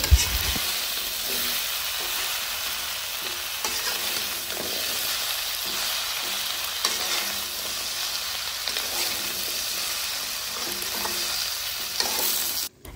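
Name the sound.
stirring taro pieces frying with spices for fish curry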